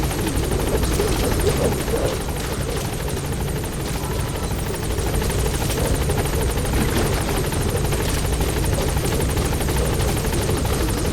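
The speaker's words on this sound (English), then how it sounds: "Support helicopter has arrived." A support helicopter arrives in the video game Metal Gear Solid V: The Phantom Pain, its rotor thudding in a loud, steady, dense whir that fills the whole stretch without a break.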